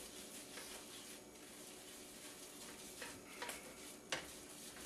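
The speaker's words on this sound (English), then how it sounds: "we're just going to stir that into this mixture" A spoon stirs cinnamon, ginger and allspice into a bubbling brown sugar and butter mixture in a pot, producing faint scraping and light clinks over a low continuous sizzle, with a few louder scrapes near the end.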